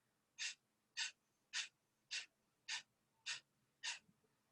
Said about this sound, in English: Pull your belly button back to your spine several times. Breathing forcefully out through your nose.